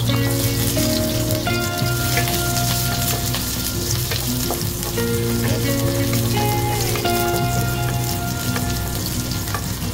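Garlic sizzles and fries in a pan for chicken feet adobo, a loud, continuous crackling hiss with occasional spattering pops throughout.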